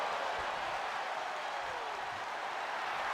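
A wrestling arena crowd in the WWE 2K26 video game applauds and cheers in a steady, dense wash of noise that holds at an even level throughout.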